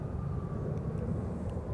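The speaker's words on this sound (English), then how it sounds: "let's catch this Sun Country arrival" Sun Country airliner arriving at MSP airport produces a steady, distant jet engine roar that holds even throughout, with no talking.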